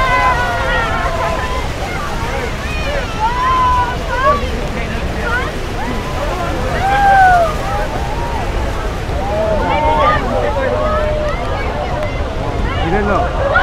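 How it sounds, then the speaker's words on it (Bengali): Strong wind roars steadily at Niagara Falls in a loud, constant rush of air and water. A babble of crowd voices and people talking sits over it. "হিউজ পরিমাণ বাতাস।"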